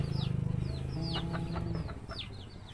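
Chickens cluck in a rapid run of close, loud calls in a rural mountain village, with a few higher squawks scattered over the top.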